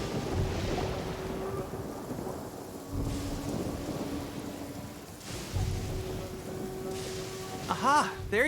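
Rain and rolling thunder in the video game Genshin Impact, with steady rainfall under several deep thunder rumbles, while a voice talks over the storm and music plays.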